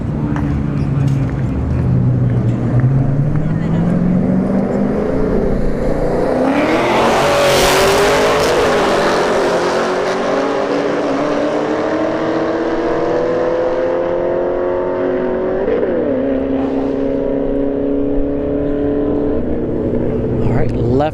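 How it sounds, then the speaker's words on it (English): A 5th Gen Camaro SS and a Scat Pack Challenger launch side by side at a drag strip, V8s roaring loud and close, with a burst of tire noise at the launch and then rising revs through several gear changes. A commentator talks over them. "5th Gen Camaro SS versus a Sket Pack Challenger"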